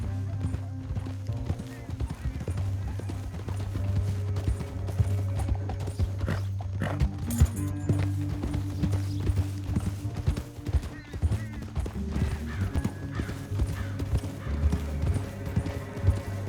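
Horse hooves gallop in the video game Red Dead Redemption 2, a fast steady clip-clop running throughout over game music, with characters talking.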